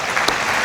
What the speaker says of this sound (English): Let's give us a round of applause for 30 years.